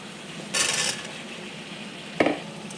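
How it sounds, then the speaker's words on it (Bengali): Potatoes tumble into a pan of fried spice masala with a short sizzling rush. Later a single sharp scrape or clink of a utensil rings out, over a low, steady background. "এবার আমি আলু দিয়ে দিলাম"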